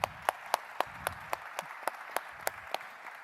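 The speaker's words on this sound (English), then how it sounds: "Please give these brilliant people a warm round of applause." A small audience claps for panelists at a cybersecurity event. A few sparse, distinct hand claps arrive in an irregular rhythm, soft and thin rather than a full ovation.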